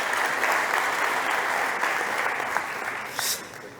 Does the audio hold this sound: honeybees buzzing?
no